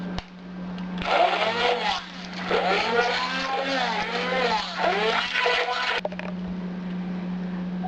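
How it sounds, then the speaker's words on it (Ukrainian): A blender whirs loudly for several seconds blending berries, its pitch rising and falling as the load shifts, then cuts off abruptly. "Ягоди я збиваю блендером."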